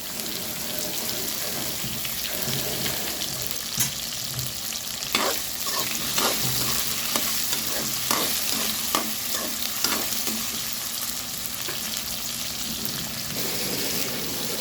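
Onions frying in a pan with salt for Tamil vatha kuzhambu, a loud continuous sizzle with repeated stirring scrapes through the middle, close up and with no talking.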